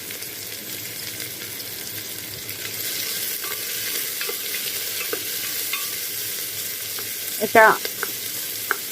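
Onion and bay leaves fry in a pan for khichuri, giving a steady soft sizzle with occasional scraping stirs and a brief clink of the spoon near the end; a voice speaks briefly.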